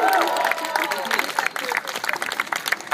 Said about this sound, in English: Let's have a round of applause for Mitra.